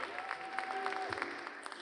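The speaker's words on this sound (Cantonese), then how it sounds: "大家再次俾啲熱烈嘅掌聲" An audience claps steadily through the opening ceremony of the 49th Hong Kong International Film Festival as a guest takes a seat. The applause is continuous and moderate, with a faint tone running under it.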